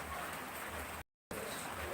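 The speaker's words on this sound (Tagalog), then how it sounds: "Tapos lagi ng ulan dito guys." Steady broadband hiss of rain falling outside a house, continuous and fairly close, cut by a brief silent gap midway.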